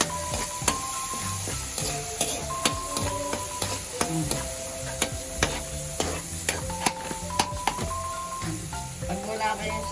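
A utensil scrapes and clacks against a pan while ginataan pakbet vegetables cook with a steady background sizzle, giving repeated sharp strikes at an irregular rhythm.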